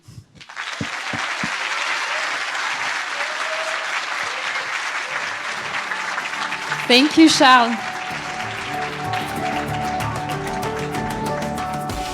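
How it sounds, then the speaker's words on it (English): Loud crowd applause fills a keynote event hall after a startup pitch, steady for several seconds before a voice speaks briefly and the clapping thins out to scattered claps. "a big round of applause"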